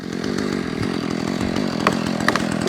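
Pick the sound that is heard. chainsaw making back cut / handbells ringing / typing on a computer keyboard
chainsaw making back cut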